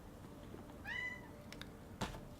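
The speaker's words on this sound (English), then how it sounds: "Sorry if you guys can hear my cat in the background." One drawn-out cat meow, faint and somewhat distant, over quiet background noise, followed by a brief soft knock.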